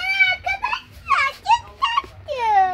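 A toy dog in a toy store gives off a run of high, tonal whimpering and squeaky yelps in short bursts, fairly close and clear, with children's chatter faint in the background.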